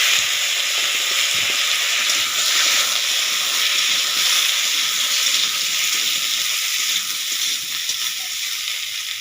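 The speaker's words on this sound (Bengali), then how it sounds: "শুকনো লঙ্কা 5 ফোড়ন ফুটে গেছে, কেটে রাখা আলু আর বেগুনটা দিয়ে দিচ্ছি।" Cut potatoes and eggplant hit hot oil already crackling with dried red chili and five-spice seeds, giving a loud, steady, close sizzle that hisses on without a break.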